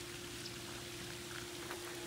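Freezing rain falling outside during a Texas snow spell, a steady soft hiss of icy drops, faint and continuous with no voices.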